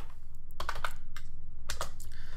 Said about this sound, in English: let's start off by typing in the name of that lens in the search bar